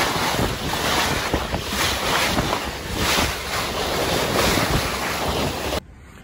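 Waves and wind surround a boat on the water in Guatemala, a loud continuous roar of surf and buffeting wind on the microphone that cuts off abruptly near the end, with no talking.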